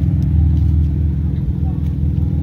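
A car engine idles and rumbles loudly at close range at a night street race in Johannesburg, with a steady low throb and slight rises in pitch.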